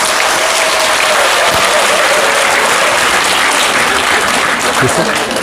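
Loud, dense applause from a large crowd at the end of a lecture at a community leaders' training event, sustained and steady throughout with no pauses.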